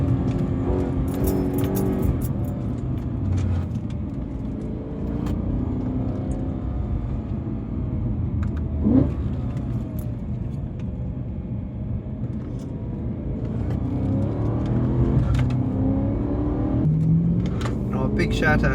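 BMW M3 E90 with a 420-horsepower engine driving on the road, a steady low engine rumble with occasional rises in revs heard from inside the car while someone talks over it.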